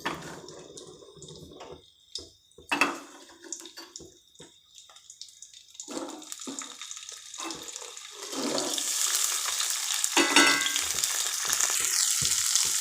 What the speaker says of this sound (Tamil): இப்போ இந்த சுண்டைக்காவை இதில் போட்டு நல்லா கொஞ்சம் வதக்கிடலாம்.